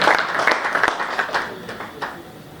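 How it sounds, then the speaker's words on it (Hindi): An audience at an all-India mushaira in a mayor's hall claps in scattered, uneven bursts that gradually thin out and fade over a couple of seconds. "आप सबसे गुजारिश करता हूँ कि इनके लिए एक बार जोरदार तालियां भी बजा दें आप लोग।"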